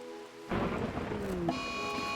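A Rimworld flash storm breaks in abruptly with a roll of thunder and heavy, steady rain, loud and continuous, joined by a sustained tone near the end.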